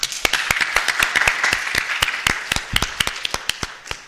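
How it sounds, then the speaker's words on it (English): Audience applause after a mental health and stress management talk in Nairobi, heard as a modest group of distinct, sharp individual claps ringing out close and uneven over a steady patter for about four seconds. "Can we give her once again a very big round of applause?"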